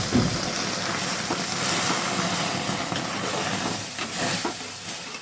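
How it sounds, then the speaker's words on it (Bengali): Water hits fried dal in a hot pan, setting off a loud, close, steady steamy hiss that surges and fades in waves. "এবার আমি এটাকে জল দিয়ে দেব"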